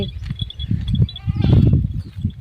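Several goats bleat in short, overlapping calls close by, with a faint high chirping in the background.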